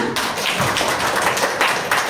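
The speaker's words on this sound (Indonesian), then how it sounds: "Tepuk tangan untuk kita semua." Audience at a business opportunity event in Pangkalpinang gives a short, dense burst of clapping, steady and fairly loud throughout.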